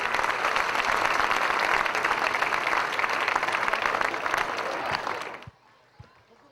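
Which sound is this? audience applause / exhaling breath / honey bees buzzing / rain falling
audience applause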